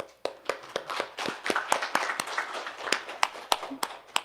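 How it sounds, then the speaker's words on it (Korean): A small audience at a presidential candidate debate gives a burst of dense clapping and applause. It is close and fairly loud, with sharper individual claps standing out throughout. "제가 박수를 한번 청하겠습니다."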